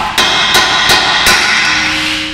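Four sharp metallic hammer taps on the outer tie rod of a Buick Encore during front suspension work, evenly spaced and close up in a garage, with a faint steady tone lingering afterward.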